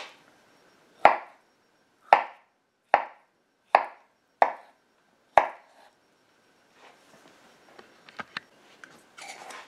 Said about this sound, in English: Chop them up however you see fit, guys.